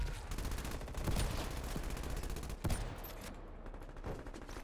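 A light machine gun fires in a prop hunt video game. It sounds as a long, rapid, continuous burst of shots at steady volume, with a brief louder crack partway through.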